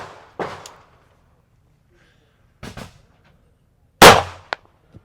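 Handgun shots at firearms training in Florida, a few sharp isolated reports spaced seconds apart, the loudest near the end with a short follow-up crack, heard close with quiet gaps between.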